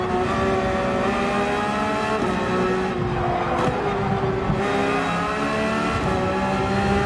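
A Porsche 911 GT3 race car's engine howls steadily at high revs around Mount Panorama in Gran Turismo 7, a sustained close-up tone rising and falling slightly with gear and throttle changes.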